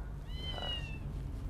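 A cat's meow used as a mobile phone ringtone sounds once, a single clear rising-falling tone over a low background hum.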